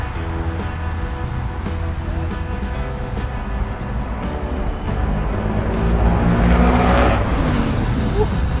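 A Ford Mustang engine rumbles at a Cars and Coffee car meet, a steady low drone that swells louder toward the end, with people talking nearby over the engine noise.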